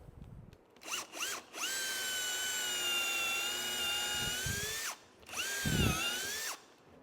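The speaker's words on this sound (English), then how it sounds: "We can drill a hole." A power drill fitted with a 3/8 inch countersink whines up in short bursts, then runs steadily for several seconds, stops, and spins up again briefly, close and clear.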